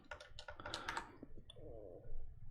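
Typing on a computer keyboard during coding: a quick cluster of close key clicks and taps, then a softer patter, with no one speaking.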